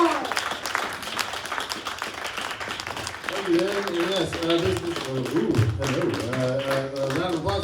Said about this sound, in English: round of applause for Major